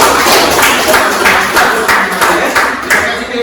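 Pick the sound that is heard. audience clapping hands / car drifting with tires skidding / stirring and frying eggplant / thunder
audience clapping hands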